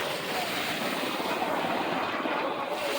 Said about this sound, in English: C5 Galaxy out there circling around. It's the largest plane in the world.